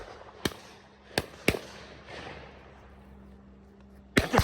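Several sharp, loud gunshot-like cracks during a dove hunt, shotgun blasts: one at about half a second, two close together near one and a half seconds, and a sharper cluster at the end over quiet outdoor background.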